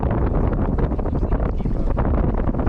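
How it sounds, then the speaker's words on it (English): Steady wind buffets the microphone outdoors on a river during a fishing trip for smallmouth bass and walleye, a loud continuous low rumble filling the whole stretch with no break. "Oh, this wind is gonna be fun too."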